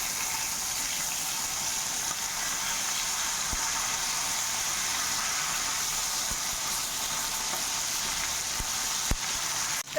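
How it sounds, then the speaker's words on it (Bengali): Bhola fish frying in oil in a pan, a steady, even sizzle that holds throughout at close range with a couple of faint clicks and no speech. "মাছটা আমার একটু ভাজা হয়ে গেছে"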